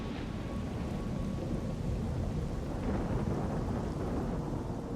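In a video game, steady rain hisses and thunder rumbles low and continuously, at a constant level with no voices.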